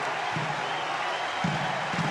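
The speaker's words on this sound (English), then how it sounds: "This crowd is deafening." Crowd in a basketball arena at a 1992-93 Indiana at Penn State college game keeps up a constant, dense roar of cheering with no break, loud and wide.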